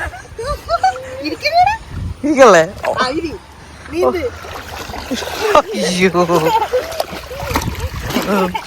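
Lively splashing in water as several people shout and talk excitedly, with bursts of spray and sloshing close by.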